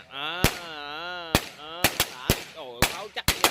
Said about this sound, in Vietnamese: Đây anh Sơn anh đốt pháo nè